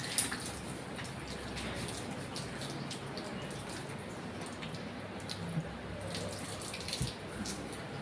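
Water drawn from a sealed rainwater tank splashes and trickles faintly and steadily, with scattered soft drips and no voices.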